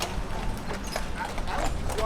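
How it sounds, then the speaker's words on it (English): Clip-clop of a horse-drawn carriage's hooves on a street in Charleston's French Quarter, set in a busy outdoor wash of street noise with people talking nearby. "we got a horse-drawn carriage"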